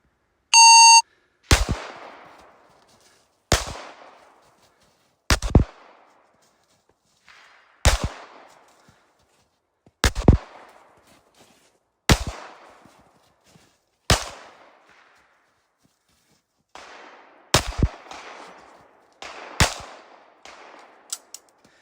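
Pistol shots from a Gen 6 Glock 17 in a range shooting drill from low ready: a short electronic start tone, then ten loud, sharp single shots spaced about two seconds apart, with a quick double at the end.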